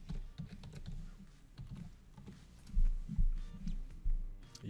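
A password is tapped out on a computer keyboard in a quick, soft burst of keystrokes heard up close, with a low hum behind and no talking.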